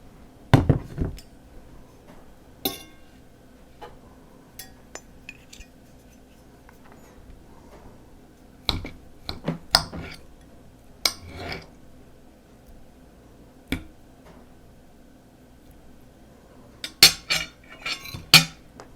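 A knife and fork scrape and clink against a plate while a smoked pork chop is cut, with scattered sharp ticks and taps spread across a quiet room and short clustered bursts of cutlery near the start and end.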